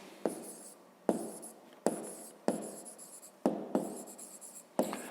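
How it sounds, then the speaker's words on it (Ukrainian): A pen writes on paper in a quiet room, close and faint, with a steady series of short scratchy strokes, each beginning with a light tap as the tip meets the page. "Пишемо це вартість."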